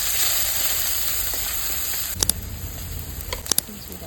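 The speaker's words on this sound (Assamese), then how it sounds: "কেৰাহীত আটাৰ হয় মাছটো ভাজি আছো" Fish sizzles steadily in hot oil in a kadai, a continuous broadband frying hiss with a couple of sharp clinks or spatters near the end.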